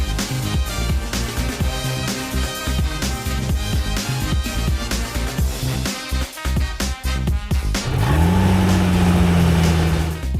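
A Porsche Carrera 4S engine revs as the throttle is held, a loud continuous mid-pitched drone with fluctuating tones, rising into a sustained higher rev near the end.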